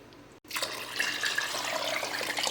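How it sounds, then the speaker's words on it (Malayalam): Water pours steadily into a pot for cooking rice, a continuous splashing rush after a brief silent gap, close and moderately loud. "ഈ പാത്രത്തിന് രണ്ട് പാത്രം വെള്ളം ഒഴിച്ചു കൊടുക്കുക"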